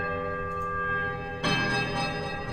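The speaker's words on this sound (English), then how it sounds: "There's a quiet, melodic chime from all three bells" Temple bells in the fantasy video game Pillars of Eternity ring out with sustained metallic tones, one lingering chime joined by a louder, fuller bell strike midway that keeps resonating to the end.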